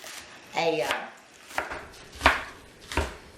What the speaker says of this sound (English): So just a coarse chop